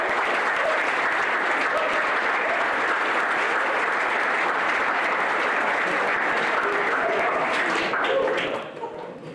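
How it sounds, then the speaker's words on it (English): Sustained applause from a crowd at a Syracuse men's ice hockey alumni dinner, dense and even clapping that fades off at the end. "Please join me in a round of applause for the Van Winkle family."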